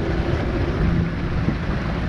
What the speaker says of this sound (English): It's not windy, it's just raining, like heavily.